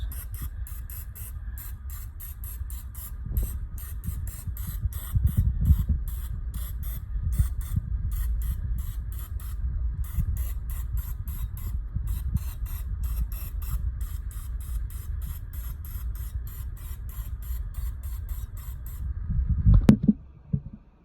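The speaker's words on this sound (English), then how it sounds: "a little bit of nonstick spray in each of these" A long, steady hiss of nonstick cooking spray onto a pan, close and continuous for most of the clip, ending with a short clatter.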